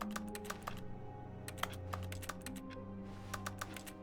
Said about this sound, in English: Why do I hear a keyboard every time I click my mouse?